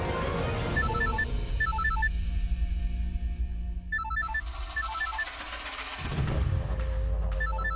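A telephone rings in repeated electronic bursts of short chirping tones, near and clear over a low background hum and music, with pauses between rings.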